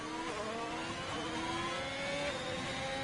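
A Ferrari race car engine in a racing game, a steady high-pitched whine with rising harmonic tones as it accelerates, continuous and fairly faint throughout.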